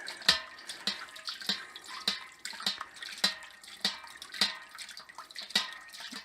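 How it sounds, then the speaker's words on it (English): Hot water splashed onto the lid of a Mangrove Jacks Irish Stout beer extract can, giving a string of irregular watery splashes and drips, close and moderately quiet, with no talking. "I'm just splashing hot water on the extract lid just to get the best and most out of it I can."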